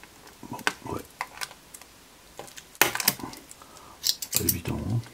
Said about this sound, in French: donc on va tester ça, les ciseaux à photo découpe.